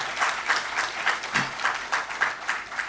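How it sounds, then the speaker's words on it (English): Rhythmic unison clapping from a reunion gathering audience, about a dozen evenly spaced beats a few tenths of a second apart, moderately close, with a faint voice briefly underneath midway. "I wanted to kind of give a big round of applause."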